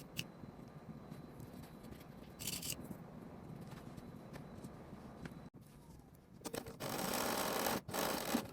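A home sewing machine stitching the sleeve seam of a modernized 1970s vintage dress, a quiet low hum through most of it with brief scissor-like snips, then louder steady stitching bursts near the end.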